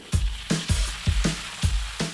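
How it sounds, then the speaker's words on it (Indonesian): Boiled beef frying in hot oil in a wok, with a loud crackling sizzle and a rhythmic series of sharp scraping strokes of stirring, about six in two seconds. "ini kita panaskan minyak, lalu masukkan daging sapi yang udah direbus ke wajan. Goreng deh tuh sampai sedikit crispy"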